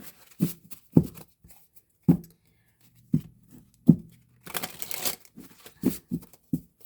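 A tarot card deck is shuffled by hand in short bursts of papery riffling and tapping, close and fairly loud, with brief pauses between shuffles.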